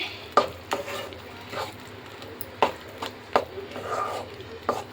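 Chana dal mixture being stirred as it cooks down in ghee, with spaced scraping strokes of a spoon against the pan over a soft, steady sizzle, fairly close and with no talking.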